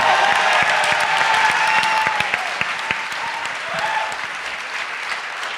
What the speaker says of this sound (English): You gotta clap them out.